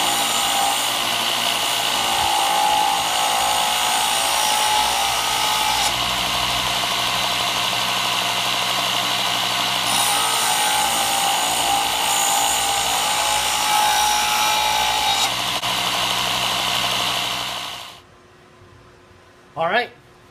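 A belt sander grinds a steel viking axe head forged from a railroad spike. The loud, continuous grinding drone runs for about eighteen seconds, then cuts off, leaving near silence and one short sound.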